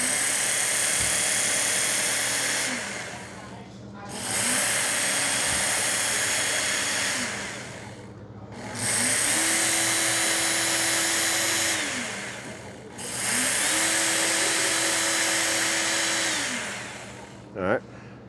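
Steady whine of a Work Sharp Ken Onion knife sharpener with its belt running, loud and close, surging in four long passes with brief dips between them as a blade is drawn across the belt.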